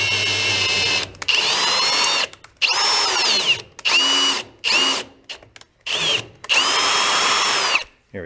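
A power drill drives a bit into a golf cart engine in several loud, close bursts of whining motor, starting and stopping with short silent gaps between runs.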